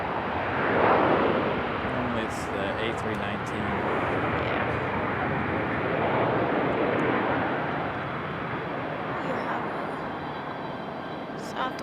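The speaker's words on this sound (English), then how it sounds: "Southwest on hand that's about to take off." Southwest Airlines Boeing 737 jet at Raleigh-Durham airport revving before takeoff, a broad steady engine roar with wind buffeting, sustained and fairly loud throughout.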